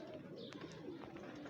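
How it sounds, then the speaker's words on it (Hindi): Breeder pigeons coo softly in a loft, low repeated calls layered with faint chirps and light background noise, fairly quiet and close. "ब्रीडर कबूतर पड़े हुए इधर यहाँ पे"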